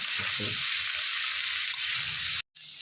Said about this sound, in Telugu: మళ్ళీ ఇదే మనం కలుపుకోవాలి మొత్తం అంతా